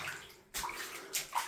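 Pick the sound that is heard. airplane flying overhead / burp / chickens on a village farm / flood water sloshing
flood water sloshing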